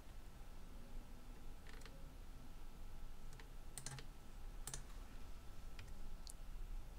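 A few soft, sharp computer mouse clicks, a right click made while holding the Control key, sound faintly and sparsely against a quiet room hiss.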